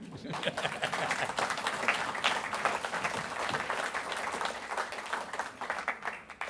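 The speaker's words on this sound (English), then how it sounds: "That deserves a round of applause, I think." Audience applause at a book launch: steady, fairly quiet clapping from a small crowd, dense and continuous for several seconds, with a voice occasionally heard under it.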